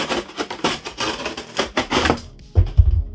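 A cardboard shipping box being cut down the middle, heard as a quick run of rough, scraping tearing strokes for about two seconds, close and fairly loud, ending in a dull thump.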